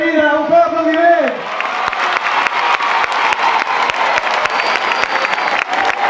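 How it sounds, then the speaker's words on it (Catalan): A school crowd at a singing event in Pineda de Mar breaks into loud, sustained applause with dense clapping, right after a brief sung or played note fades out. "Un fort aplaudiment!"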